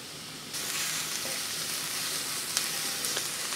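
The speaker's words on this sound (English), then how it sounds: "Oil is heated. Adding my onion." Chopped onion and the white parts of green onion hit hot oil, bursting into a loud, steady sizzle that holds evenly to the end with a few small pops.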